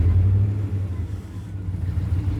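A 700-horsepower Winnebago motorhome revs its engine during a burnout attempt with the line lock held, giving a loud, close, low rumble that rises and dips without pause.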